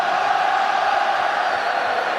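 Large rugby stadium crowd at an Ireland–Italy World Cup match, a steady, loud, far-off roar of cheering and whoops sustained throughout with no break.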